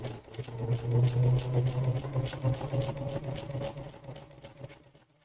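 A Bernina sewing machine fitted with a #86 ruffler foot pleats fabric with every stitch, a close, rapid whirring motor with fast rhythmic clatter that slows and fades out at the end, no voices.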